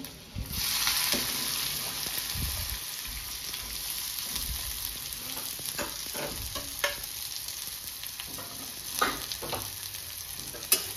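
Chopped garlic and onion fry and sizzle in hot oil in a pan while being stirred for chilli paneer, a steady close crackle with scrapes and clinks of the spoon throughout.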